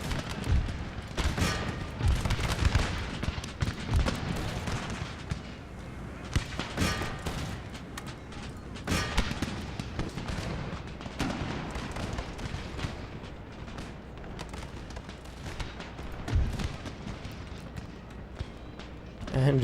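Round-shot cannon volleys from Empire: Total War ring out in irregular booming bursts amid battle noise and scattered musket-like cracks, with someone talking over the game sounds throughout.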